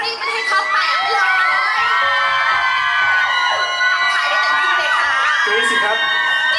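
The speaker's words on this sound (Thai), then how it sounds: "กรี๊ดกันให้ดังกว่านี้กรี๊ดกันให้ท็อปแปดเลย" A packed crowd at a fan event at Central Westgate shrieks and cheers nonstop, dense high screams overlapping and swelling loudly in waves, with shouting voices mixed throughout.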